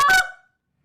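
One short, sharp honk from a goose call with a bent reed, close and fairly loud, cuts off quickly and trails into silence.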